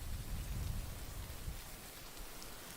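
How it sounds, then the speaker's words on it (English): Steady rain patters down with a dense hiss, with low rumbling underneath, close and continuous throughout. "So this is the rain."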